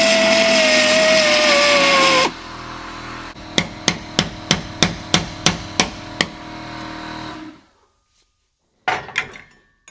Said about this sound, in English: an easier way to deal with it is this belt sander